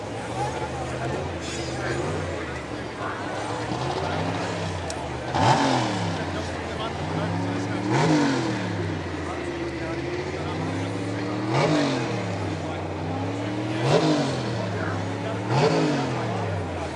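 A V8 rally car at a tarmac rally in Perth revs again and again, each rising and falling engine sweep standing out over steady crowd chatter.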